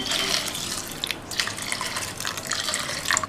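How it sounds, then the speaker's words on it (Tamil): Water splashes and pours steadily into a pot of flattened rice (aval) nearby, with bright trickling and a few drips, no voices. "இதில் முங்குற அளவுக்கு தண்ணி சேர்த்துடலாம்."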